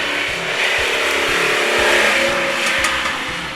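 A Lamborghini Jalpa engine pulls hard under acceleration, a steady loud mechanical roar with a rising, buzzy tone held throughout, no voices over it.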